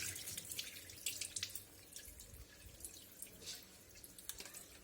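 Water begins running through a cleaned household water meter filter, a faint, close trickle and splash with small drip-like spatters that continues for a few seconds.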